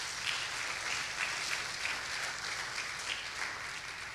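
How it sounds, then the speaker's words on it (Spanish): A church congregation applauds in steady, even clapping that carries on for a few seconds. It sounds somewhat distant and moderately quiet, with no speech over it. "Denle un aplauso fuerte a Dios, hermano."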